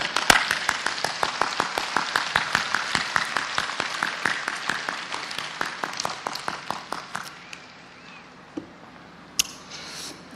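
Audience applause in a large hall during a religious address, sharp rhythmic clapping in unison, loud and steady for about seven seconds, then fading into scattered claps and quieter room noise.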